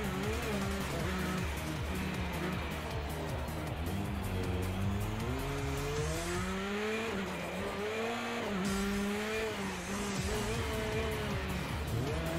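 Race car engine in Project Cars 2, played in VR on an Oculus Quest 2, droning and shifting pitch through a final lap with brief tire squeals, loud and continuous throughout.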